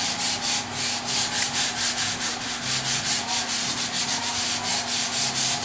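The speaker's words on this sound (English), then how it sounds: "you want to sand both sides that you've painted" Steady, rhythmic scratchy sanding strokes across a painted surface, close and continuous, back-and-forth rubbing with no voices.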